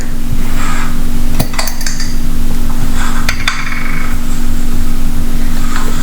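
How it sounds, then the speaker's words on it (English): A lid placed on a pot of Kerala shrimp and jackfruit curry, a couple of metallic clanks and rattles over a loud steady background hum. "We'll put a lid on it and allow it to cook."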